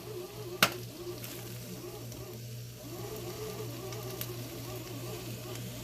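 Spinach with garlic and oil sizzles softly in a pan while being stirred, a low steady frying hiss under a faint hum, broken by a couple of sharp utensil clicks.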